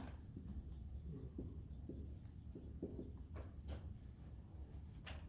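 Marker or chalk writing on a board in a chemistry lecture hall, faint soft strokes and taps over a steady room hum, with no speech.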